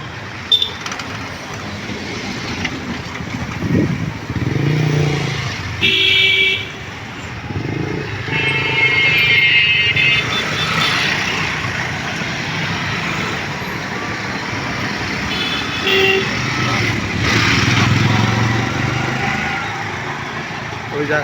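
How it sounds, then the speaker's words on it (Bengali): Two small river trawlers and a little single-deck launch pass together on a river, their engines droning steadily in the background. Someone talks over the engines throughout, and a few brief horn-like toots cut in. "আরো দুইটা একসাথে আসতেছে ট্রলার। জাহাজও বলতে পারেন, ছোটোখাটো লঞ্চ, একতলা লঞ্চ"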